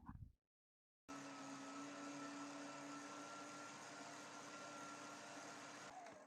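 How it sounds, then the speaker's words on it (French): A stand mixer runs at a steady hum while kneading brioche dough for a crown-shaped galette, starting abruptly after a short silence and continuing evenly at a moderate, close level. "on va remettre à pétrir et la pâte sera terminée"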